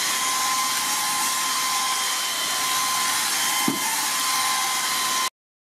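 A Redroad V17 cordless vacuum cleaner runs on medium power with a steady, close, airy whine and hiss, plus one brief knock near the end before it cuts off.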